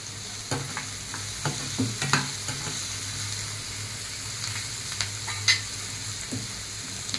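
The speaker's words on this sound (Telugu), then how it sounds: "ఈ ఆనియన్స్ బాగా ఫ్రై అవ్వాలి" Onions frying with salt in a pan while being stirred, a continuous sizzle broken by sharp spatula scrapes and clinks against the pan, close and moderately loud.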